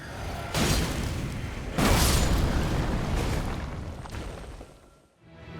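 Two loud, booming explosions of a body bursting in the video game Elden Ring, each a broad blast with a long rumbling tail, followed by a lingering roar that fades out.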